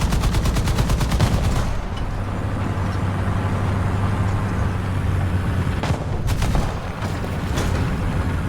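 Heavy .50 caliber machine guns in War Thunder fire a rapid, loud rattling stream over a constant engine drone, stopping briefly and then starting again.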